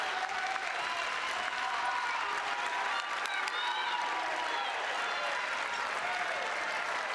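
A packed arena crowd at a women's college basketball game between Portland and BYU roars and applauds steadily, a dense wall of cheering and clapping that holds throughout, with faint whistles and shouts rising from the stands.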